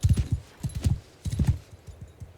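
Horse archers' hooves pounding in Mount & Blade II Bannerlord: loud, close clusters of rapid clip-clop hoofbeats in uneven galloping bursts, with no talking.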